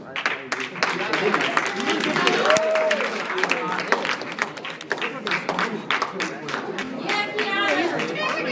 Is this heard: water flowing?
no